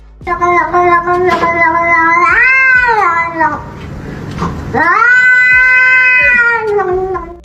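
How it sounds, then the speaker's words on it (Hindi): An angry cat yowls loudly and close up at its owner's pointed finger, giving long, drawn-out, rising and falling caterwauls with a brief break in the middle. "ये ऑनर अपने बिल्ली को उंगली दिखा रहा है और बिल्ली उस पर चिढ़े जा रही है"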